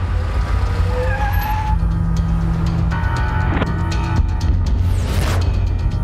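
A car braking hard and skidding to a halt in a Hindi-dubbed South Indian action movie, tires squealing over a loud rumbling engine and rushing background, ending with a sweeping screech.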